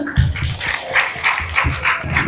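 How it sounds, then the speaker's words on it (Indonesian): Applause for the speakers at a high school P5 event on Indonesian cultural diversity: a steady, dense crowd clapping that fills the whole stretch at moderate volume. "Sekali lagi tepuk tangan untuk para narasumber"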